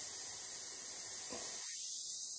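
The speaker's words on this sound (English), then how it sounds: "I can just spray and take care of it, which is with the airbrush" An airbrush sprays paint onto a Tamiya 1/48 P-38 F/G model, a steady faint hiss throughout that cuts back partway, leaving a thinner high hiss without any talk.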